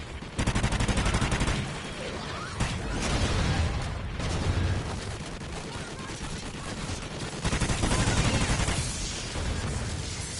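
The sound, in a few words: dual pistols firing in a Call of Duty Extinction video game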